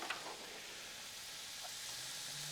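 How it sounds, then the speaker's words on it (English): Teriyaki country style ribs sizzle on a grill, a steady, soft broadband hiss that runs evenly through the whole clip with no talk over it. "Already hear that sizzle going."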